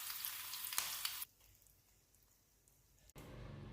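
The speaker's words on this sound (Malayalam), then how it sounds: "ഇനി നമുക്കിത് കടുക് പൊട്ടിച്ചെടുക്കാം" Mustard seeds splutter in hot oil, with a loud crackling sizzle for about a second, then a much quieter stretch before another burst of frying noise returns near the end.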